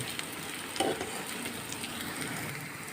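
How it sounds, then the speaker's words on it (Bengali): Onion and garlic frying together in oil in a pan, a soft continuous sizzle with a brief clack of a utensil stirring near the start, fairly quiet and steady. "রসুনটা একটু ভেজে নিচ্ছি"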